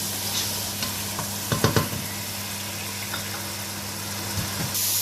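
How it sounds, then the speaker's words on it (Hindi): Tomatoes and whole green peppers frying and being stirred in a masala base for Punjabi kadhi, a steady close sizzle with a few louder scraping stirs, no talking. "अब इसमें हम टमाटर ऐड करेंगे और ग्रीन पेपर हमने पूरी डाली है"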